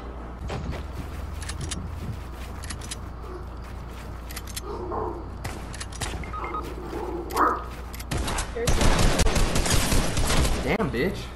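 Rapid bursts of video-game gunfire crack out in scattered volleys, building to a dense fusillade near the end, while someone talks over parts of it.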